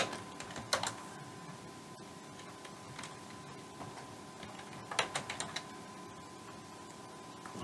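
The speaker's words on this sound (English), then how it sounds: "I hope I don't fat finger the keyboard." Computer keyboard typing while configuring a router, a few sparse clicks followed by a short quick burst of keystrokes, close and quiet against a faint room hum.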